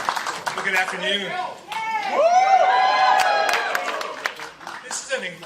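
Rally crowd at a Nikki Haley campaign event in South Burlington cheering, clapping and whooping, swelling to a loud sustained peak mid-stretch with shouts and whistles before fading into scattered applause.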